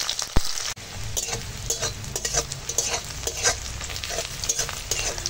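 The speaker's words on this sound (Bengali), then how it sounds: "ওই তেলে এখন তেজপাতা ফোড়ন দিলাম, আর পেঁয়াজ, কাঁচা লঙ্কা দিয়ে একসঙ্গে ভেজে নেব।" Bay leaf, onion and slit green chillies fry in hot oil left over from frying pointed gourd, sizzling loudly up close with repeated scraping stirs of a spatula against the pan.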